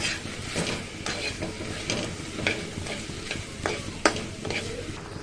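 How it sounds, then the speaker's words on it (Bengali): A spoon stirs watermelon peel candy with cardamom and sugar in a pan, scraping and clicking in irregular strokes over a soft sizzle, close and moderately loud, without speech. "দেন নাড়াচাড়া করে দিব।"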